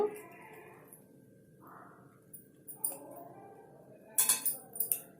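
Fried idli pieces are tossed with chili powder in a pan, with a few sharp scraping clinks of a spatula against the metal toward the end. A voice talks over the quieter stretch before them.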